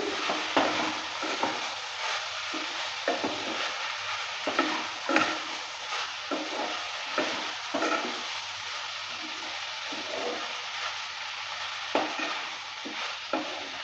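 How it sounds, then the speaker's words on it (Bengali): Spices and garam masala for a banana flower chorchori fry in a pan, sizzling steadily as a spatula stirs and scrapes in repeated strokes, close and continuous, with no talking. "সব কিছু দেওয়ার পর ভালো করে আবারও নেড়ে চেড়ে নিচ্ছি।"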